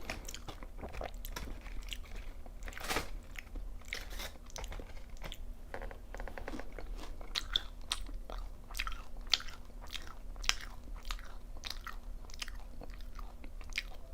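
Close-up eating of crunchy BBQ Golden Olive fried chicken and tteokbokki, with repeated sharp crunchy bites and wet chewing at an irregular pace, quiet and intimate, with no talking.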